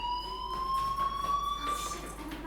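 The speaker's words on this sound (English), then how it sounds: "do you hear that fire alarm?" Fire alarm in the video game Life Is Strange, a steady high electronic tone ringing continuously at moderate volume against a low background hum.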